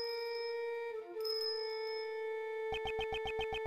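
Bell ringing in the dark in Ace Attorney Investigations 2, a sustained ringing tone followed by a rapid pulsing series of bell strikes at the end, fairly quiet and with no talk.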